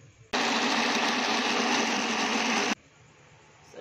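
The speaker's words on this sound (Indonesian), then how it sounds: "Nasinya mau kita blender dulu ya." A blender whirs loudly and steadily for a couple of seconds blending leftover rice with a little water, a dense high-pitched motor roar that cuts off abruptly, leaving quiet room noise.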